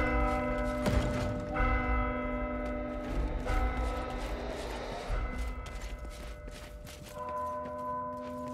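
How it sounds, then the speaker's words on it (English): A large bell is struck in the video game Warhammer Vermintide 2, ringing out with a long sustained hum and several fresh strikes over rumbling, creaking game ambience. "Strike the bell and let's begin."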